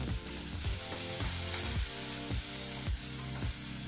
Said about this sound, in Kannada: ಈರುಳ್ಳಿನ ಹಾಕಿ 4 ರಿಂದ 5 ನಿಮಿಷ ಮೀಡಿಯಂ ಫ್ಲೇಮ್ನಲ್ಲೇ ಈರುಳ್ಳಿನ ಫ್ರೈ ಮಾಡ್ಕೋಬೇಕು